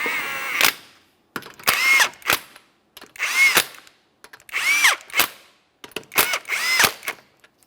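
An electric impact tool snugs 19mm lug nuts on a 2015-2019 Subaru Outback wheel in five or six loud, close whirring bursts, each ending in a sharp hammering rattle, with short pauses between them.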